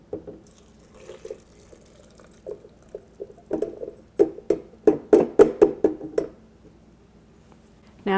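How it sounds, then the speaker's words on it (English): Liquid from cauliflower soup is ladled into a blender, with soft splashes and pours at first, then a cluster of louder, close wet sloshes and drips before it settles. "I think I'll start by using a ladle so that I won't be splashing some of this liquid."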